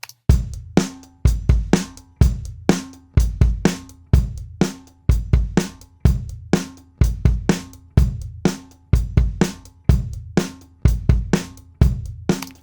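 A drum kit plays back through a heavily compressed parallel bus, with punchy kick and snare hits in a steady, driving groove and a pumping, squashed sustain after each beat, loud and upfront.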